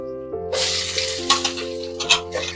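Sliced onion and garlic hit hot oil in a pan with a sudden bright sizzle that swells into steady frying. Stirring scrapes and spits come in uneven bursts, close by, above a faint background tone.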